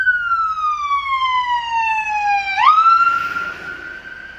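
A loud, close ambulance siren wails. One long sweep slides down, then jumps sharply up into a steady high tone.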